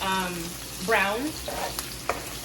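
Onions sizzle in a pan as a spatula scrapes and stirs them, with a few sharp clicks of utensil against the pan.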